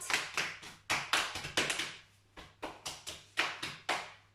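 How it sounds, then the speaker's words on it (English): Clapping closes a seated full-body workout class for older adults, delivered in close, crisp bursts of quick handclaps separated by short pauses, with no talking heard. "a big round of applause"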